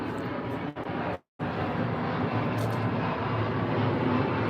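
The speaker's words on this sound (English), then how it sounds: "also a plane going by" A plane passes overhead in the Bronx, a broad steady roar that stays loud and continuous apart from a brief dropout near the start, with no voices.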